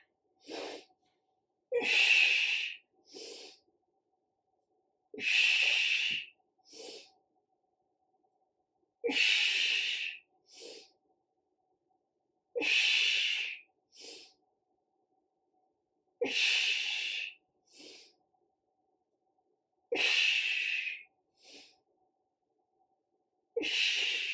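Steady breathing during a core workout: seven cycles, each a strong exhale followed by a quick, shorter inhale, repeating about every three and a half seconds, close and clear with silence between.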